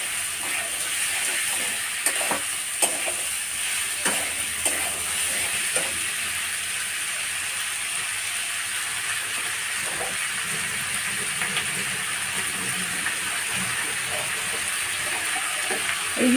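Chicken pieces for chili chicken sauté lightly in a pan, giving a steady loud hiss and sizzle with scattered pops and crackles, no voices over it.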